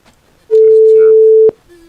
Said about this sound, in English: this phone off the hook